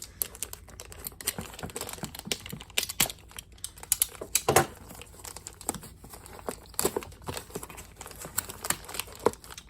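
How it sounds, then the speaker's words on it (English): Cardboard packaging for a System Sensor SS-24C strobe being opened by hand, with a steady run of close crinkling, tearing and tapping rustles, sharp scratchy bursts scattered throughout and no talking. "I'm gonna try not to tear this box here up"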